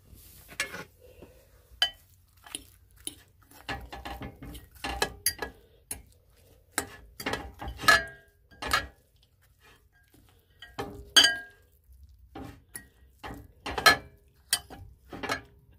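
Acorn squash stuffing being mixed with half a cup of cheese in a bowl, heard as a run of scattered clinks and scrapes of a utensil against the bowl, with irregular close knocks and no talking.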